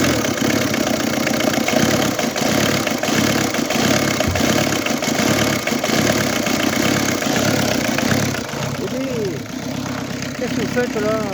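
A car engine runs steadily just after starting, a loud continuous idle with a rhythmic low throb, and a person speaks near the end.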